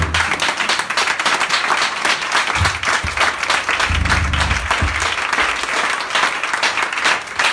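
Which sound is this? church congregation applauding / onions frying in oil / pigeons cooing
church congregation applauding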